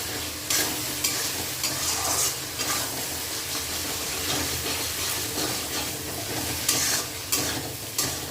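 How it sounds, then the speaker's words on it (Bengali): Mutton pieces fry in a hot pan while being stirred, a loud, dense sizzle and hiss throughout with repeated scraping and knocking of the spatula against the pan, no talking. "দিয়ে এবার একটুখানি ভালো করে নাড়াচাড়া করে নেব।"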